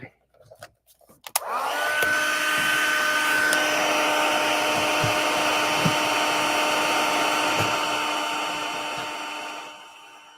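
A handheld heat tool for embossing powder on a handmade card starts after a few small handling clicks, then blows a loud, steady whirring hum for about eight seconds before winding down.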